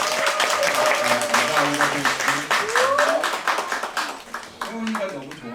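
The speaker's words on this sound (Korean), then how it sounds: "우리 큰 박수로 우리" A church congregation applauds at a Sunday service for a teacher who is moving on, with dense, steady clapping throughout and a speaker's voice running over it.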